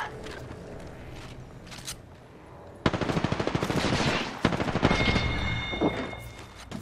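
Automatic weapon fire in the battle royale shooter Apex Legends, a quiet lead-in followed by rapid loud bursts of gunshots that continue to the end, with a high electronic tone sounding over the later shots.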